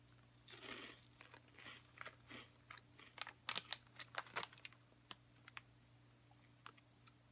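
A vanilla-flavoured, cheese-poof-like snack crunched close up in quiet surroundings, with crisp, irregular bursts of crackling bites that grow denser midway, then trail off into sparse soft clicks.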